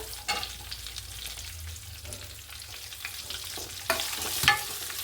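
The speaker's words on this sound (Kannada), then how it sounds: "ಸ್ವಲ್ಪ ಫ್ರೈ ಮಾಡ್ಕೊಳ್ಳೋಣ." Cumin, onion, green chilli and curry leaves fry in a pan for a pumpkin dish, giving a soft, continuous sizzle with occasional stirring scrapes. The sizzle swells louder near the end.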